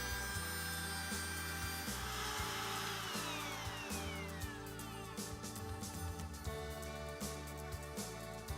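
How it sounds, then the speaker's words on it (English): Router cutting a door hinge mortise with the bearing following a Milescraft HingeMate150 template, a continuous high whine that carries chattering cutting bursts and rhythmic low pulses, loud and close throughout. "start routing into the material, letting the bearing follow the template as you go"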